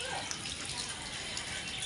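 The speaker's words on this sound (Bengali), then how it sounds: "জল পড়ে যাচ্ছে" Water spills steadily over the rim of a filled water drum at home, a continuous close splashing gush with no pause throughout.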